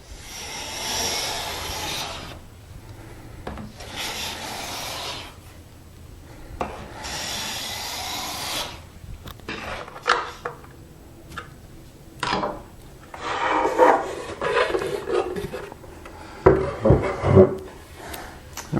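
Hand plane and file working a wooden porringer-style side table top, with repeated close rasping and rubbing strokes in rhythmic bursts, later mixed with sharper scraping and tapping; no talk.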